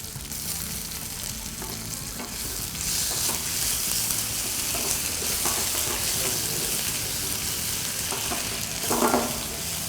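Ginger garlic paste fries in a pan for a brinjal fish curry, with a steady sizzle and occasional stirring scrapes, no voices.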